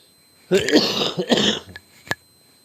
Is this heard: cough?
yes